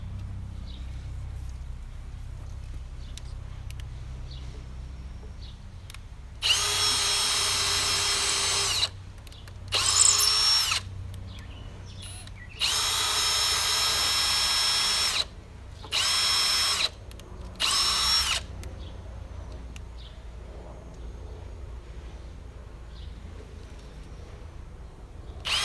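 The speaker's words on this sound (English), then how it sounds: "And I need a pre-drill." A power drill pre-drills holes for a tank rack in several loud high-pitched bursts, each a few seconds long, separated by pauses filled with low background hum.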